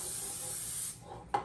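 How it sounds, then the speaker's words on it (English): Non-stick cooking spray sprayed into a cheesecake pan, a close steady hiss for about a second, then a short soft tap. "I'm going to take my non-stick spray and just coat the"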